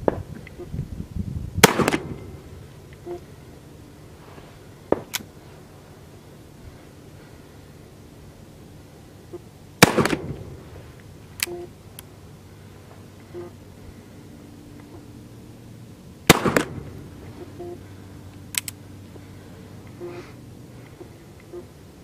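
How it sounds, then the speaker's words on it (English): A .36 caliber Navy black powder revolver fired outdoors, sharp loud reports spaced several seconds apart, some doubled in quick succession, over a quiet background. "The 36 caliber Navy never has been noted as having much recoil, and it's not very difficult to stay on target with this accurate revolver"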